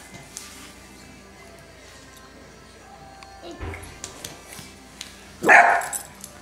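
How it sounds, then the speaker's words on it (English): A dog barks once, a short loud bark near the end, after quieter background noise and some talk during a child's balloon play at home. "There's the dog."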